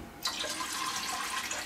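Cold water poured into a soup pot of chicken stock, starting abruptly and running as a steady, close splashing stream throughout.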